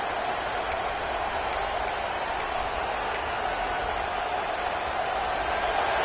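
Steady roar of a football stadium crowd at an LSU game, a dense, continuous wash of noise with faint sharper shouts and whistles poking through, no clear voice on top.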